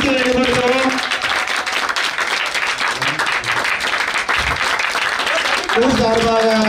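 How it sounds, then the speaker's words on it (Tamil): Warm applause rolls through a crowd at the Maha Kumbhabhishekam consecration of Sri Muppidathi Amman temple in Kozhumadai village, Tirunelveli, with a voice speaking over the clapping at the start and end. "எல்லாரும் பலத்த கரகோஷங்களை கொடுக்கிறோம்."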